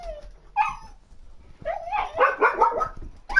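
A dog barks and yips in short bursts, a single yelp followed by a run of several excited barks and whimpers, close and fairly loud, with no talking during it.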